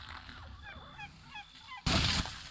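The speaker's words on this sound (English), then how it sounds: "Oh my god, did a seagull just take my food again?" A bird in a Minecraft world lets out a series of short, chirpy squawks at moderate distance, followed by a sudden loud rushing burst that drowns everything out.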